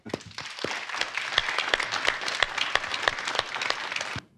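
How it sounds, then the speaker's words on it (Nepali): An audience at a poetry competition stage show applauds performers with dense, steady clapping that holds for several seconds and then stops abruptly. "तपाईँको लागि हामी ताली दिएरै पठाउँ न तपाईँलाई"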